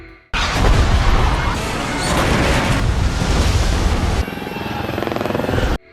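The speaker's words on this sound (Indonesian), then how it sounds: "Ada sebuah helikopter lain yang terlihat kehilangan kendali." A loud helicopter losing control roars close by, its rotor churning with crashing, rumbling bursts as the engine sound lurches and shifts, then cuts off abruptly.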